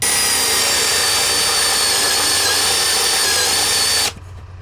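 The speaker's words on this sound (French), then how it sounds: "on va d'abord commencer par une mèche Forstner, ça doit être du 25" A power drill with a 25 mm Forstner bit bores into wood during an old wooden cart restoration, a loud steady whine held for about four seconds before cutting off abruptly.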